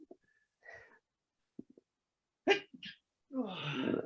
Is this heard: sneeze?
yes